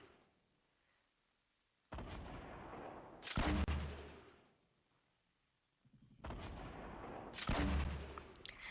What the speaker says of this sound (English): Tried using the grenade launcher.